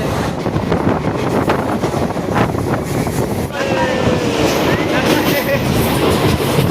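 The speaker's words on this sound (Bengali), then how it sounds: "এই মুহূর্তে আমাদের ট্রেন শিলিগুড়ি জংশন থেকে সাতচল্লিশ কিলোমিটার যাত্রা সফল করে আমাদের ট্রেন এসে পৌঁছলো নিউমাল জংশনে" A passenger train rolls through the Dooars toward New Mal Junction, a loud continuous rumble and rattle of carriages on the rails with wind buffeting the microphone and faint squeals.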